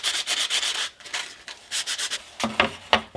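Sandpaper rubbing over a carbon fiber engine cover for a B7 RS4, close and rhythmic, with repeated short scraping strokes and brief pauses between them.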